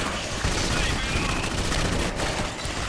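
Steady automatic gunfire in Clive Barker's Jericho, a dense, continuous fusillade that stays loud throughout, with voices faintly mixed in.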